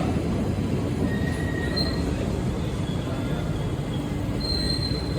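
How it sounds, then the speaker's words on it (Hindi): The Chandigarh Lucknow Superfast Express passes at a station platform, its wheels rumbling steadily and loudly throughout, with intermittent high metallic squeals over the continuous rolling roar. "अपनी आई इधर चंडीगढ़ लखनऊ सुपरफास्ट एक्सप्रेस, पूरी पैक है"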